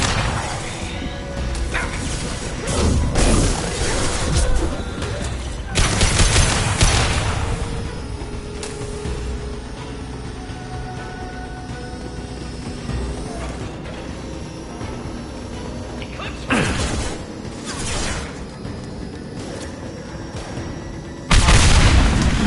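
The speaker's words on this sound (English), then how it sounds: "It'll take heavier weapons than that to blow those tanks." Weapons fire and heavy explosions from the Mass Effect 2 video game, set on the Citadel during a fight against tanks. Several booming blasts and bursts of gunfire hit loud and close against a busy background of game noise.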